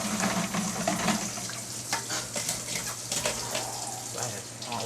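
A kitchen tap runs hot water in a steady, broadband rush that continues through the whole stretch, with faint clinks and movement on top and a low hum beneath.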